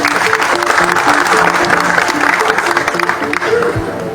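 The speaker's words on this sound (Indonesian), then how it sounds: "Tepuk tangan dulu." An audience applauds at the installation ceremony of the PSMTI Bandung board, a thick, sustained wash of clapping from a crowd, with some voices and a tonal background sound under it.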